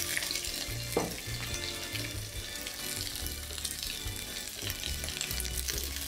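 Red pepper and onion stir-fried in a wok, giving a steady close sizzle broken by tossing and scraping strokes, with no one talking.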